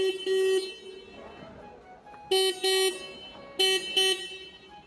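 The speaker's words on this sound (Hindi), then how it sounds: "तो यह हो जाता है इसका हॉर्न।" A Harley-Davidson X440 motorcycle horn beeps four times in two pairs of short, loud, bright blasts separated by a pause, with quiet background noise between.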